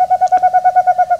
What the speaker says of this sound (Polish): Ten gatunek z pewnością można nazwać może nieco za małą, ale typową sową, ponieważ odzywa się wyłącznie w nocy.